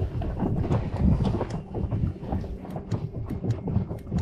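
Wind blows steadily outdoors on a cold, damp February day at minus four degrees while fishing for zander, a continuous low buffeting rumble on the microphone with irregular gusts and no talk.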